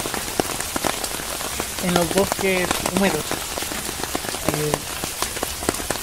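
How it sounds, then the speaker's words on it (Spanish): Raindrops patter steadily onto mushrooms in a humid forest, a close, continuous soft tapping with scattered louder drips, while a person speaks briefly partway through. "Y precisamente las gotas de lluvia que caen están liberando las esporas"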